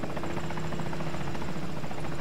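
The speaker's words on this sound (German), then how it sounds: "Das Flugzeug ist schon wieder da." An aircraft drones overhead in the video game Arma 3, a steady rotor-like whir that holds evenly for a couple of seconds with no voices over it.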